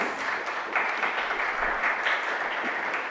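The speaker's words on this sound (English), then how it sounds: "give him a round of applause for hosting us" A crowd claps steadily for a few seconds, a dense, even wash of applause with no voices over it.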